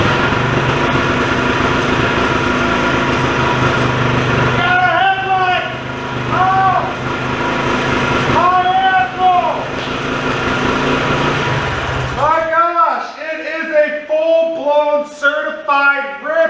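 An old Polaris Trail Boss ATV engine, left unregistered for fifteen years, runs steadily through the first twelve seconds, then drops away beneath voices talking near the end.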